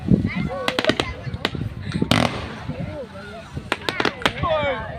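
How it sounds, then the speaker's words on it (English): Fireworks at Pounawea go off in a quick series of sharp cracks and pops, some close together, under excited talking and exclamations. "Look at this firework."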